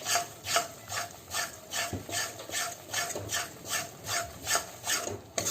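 Gram flour (besan) roasting in a pan over a low-medium flame is stirred continuously, producing a regular rhythmic scraping rasp of a spoon across the pan, close and fairly quiet.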